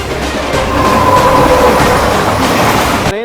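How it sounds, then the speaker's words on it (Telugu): The 12077 Jan Shatabdi Superfast Express runs at speed between Gudur and Vijayawada, a loud, steady rolling rumble of the carriages with clickety-clack and a brief thin wheel squeal, no voices. "ట్రావెల్ చేస్తున్న ట్రైన్ వచ్చి 12077 Jan Shatabdi super fast express"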